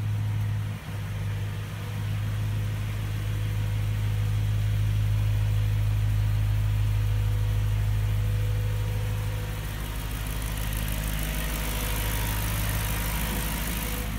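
A 2009 BMW M3 Coupe idles steadily, a smooth low droning hum with an even tone that holds for the whole stretch, close by and without talk.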